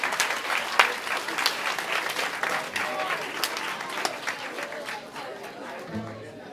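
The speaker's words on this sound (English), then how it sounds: "Go give these people another great round of applause." A high school auditorium crowd applauding students at a hypnosis show, a dense, lively round of clapping with some cheering and chatter mixed in, loud and sustained before tapering off at the end.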